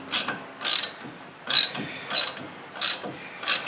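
Six quick ratchet bursts tighten the lock nut on a Dodge Dakota lower ball joint stud, each short clicking run spaced about half a second apart, close and clear with no talking.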